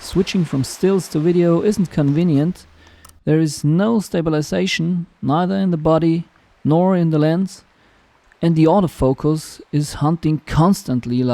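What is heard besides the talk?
No everyday noises stand out.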